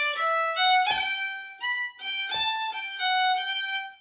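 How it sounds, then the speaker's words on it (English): Solo fiddle plays a Donegal-style phrase ornamented with short rolls, crisp bowed notes punctuated by brief grace-note flicks giving a tight, rhythmic lilt, close and unaccompanied. "the short roll will sound like this."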